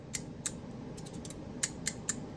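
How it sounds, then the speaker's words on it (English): A 3D-printed Desert Eagle fidget toy with magnets clacks shut, several sharp close clicks in an irregular series of about six over a low background hum, no talking. "You see how it kind of clacks down?"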